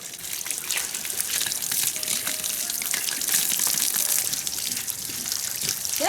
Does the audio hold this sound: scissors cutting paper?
no